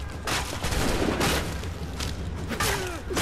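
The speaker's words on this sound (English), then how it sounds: "am I just gonna let a firing line do that to me?" In the Assassin's Creed III video game, a line of muskets fires a volley of repeated crackling gunshot bursts that rise and fall over a few seconds, loud and close, mixed with game noise.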